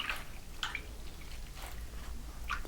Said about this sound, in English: And then we'll just wring it out.